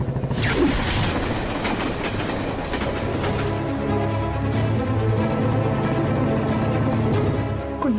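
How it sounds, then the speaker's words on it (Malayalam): A train rumbles in steadily with clattering wheels and a couple of faint squeals, loud and close throughout with no voices. "ട്രെയിൻ ഇപ്പൊ വരും."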